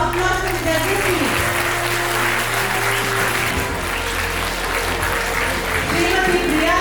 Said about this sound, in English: Please, can I hear a round of applause from judges please?